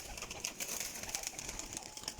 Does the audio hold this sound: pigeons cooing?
yes